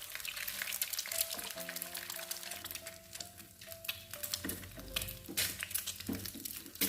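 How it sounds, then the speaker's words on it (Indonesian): Eggs frying together in a nonstick frying pan give a steady, close sizzle and crackle throughout, with faint clinks of a utensil and some background tones. "telurnya mau saya ceplok aja biar cepat. Jadi saya goreng aja sekaligus ya teman-teman."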